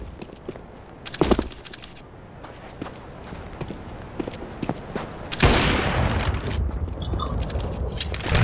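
Counter-Strike gunfire on the Dust2 map: a few sharp shots early on, then a loud, dense stretch of rapid fire and noise filling the second half.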